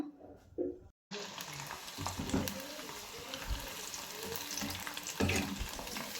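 Cauliflower gobi manchurian pieces frying in hot oil, a steady close sizzle with occasional stirring clatter, continuing after a brief pause near the start.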